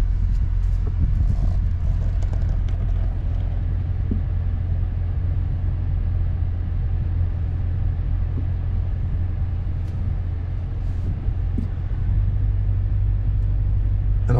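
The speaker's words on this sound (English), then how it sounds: "So we're just going to drive in now and have a look." A car rolls slowly into a campsite, a steady low engine rumble with soft crunching and bumps, close and continuous throughout with no talking.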